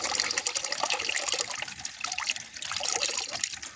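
Spring water running steadily, a continuous close splashing and trickling flow with no pauses.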